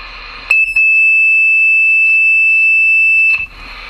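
A handheld EMF detector held near a power drill with its trigger partly squeezed gives off a loud, steady high-pitched whine. The tone lasts about three seconds, then stops abruptly.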